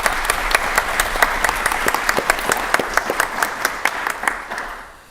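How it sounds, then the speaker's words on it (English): Audience at a Houston event on immigrants and the economy giving panelists a round of applause, a dense, steady crowd clapping with sharper individual claps on top that fades out at the end. "Please, everyone, give them a round of applause."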